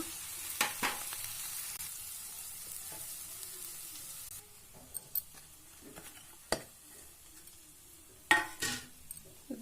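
Soaked sabudana is stirred into a sizzling tempering of spices and grated coconut. A faint steady fry hiss sits under sharp, sporadic clinks and scrapes of the spoon against the pan.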